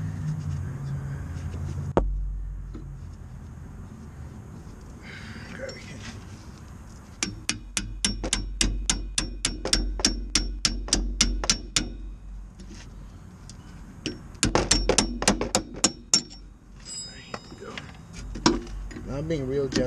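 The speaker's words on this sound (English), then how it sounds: "it sounds loud because of course it's the hammer" A hammer repeatedly strikes a bolt on a car brake caliper, two bursts of rapid metallic taps with short pauses between them, close and loud, with brief speech in places.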